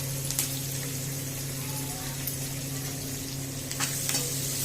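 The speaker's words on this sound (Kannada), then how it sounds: "Fry A little bit." Curry leaves and chopped capsicum frying in a pan, a steady soft sizzle with a few brief stirring scrapes, heard close and fairly quiet.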